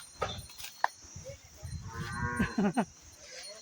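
Small cows mooing nearby at a cow shelter: a few low, drawn-out moos in quick succession against a quiet background.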